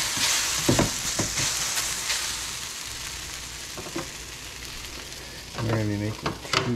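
Shredded potato hash browns sizzle steadily in a skillet, with a constant frying hiss broken by scraping spatula strokes and a brief voice near the end.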